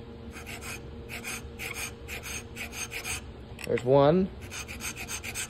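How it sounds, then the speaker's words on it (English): Steel file rasping notches into a sandstone arrowhead, a rapid series of regular scraping strokes close by, with a brief voice counting partway through. "we're going to use our file once again on this here, and we're just going to start carving in some notches"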